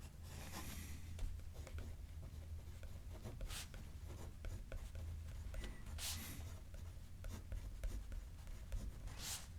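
A pen writes across a playing card in steady, quiet scratching strokes, close and faint, with a low hum running underneath throughout.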